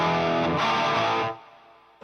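A guitar amplifier turned all the way up to 10 rings out with a loud, distorted sustained chord that fades off after about a second and a half, alone with no talking.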